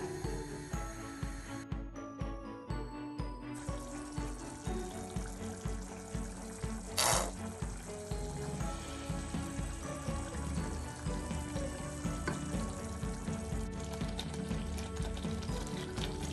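Tomato hot chutney simmers and bubbles in a pan, a soft continuous popping and gurgle under faint background music, quiet and close.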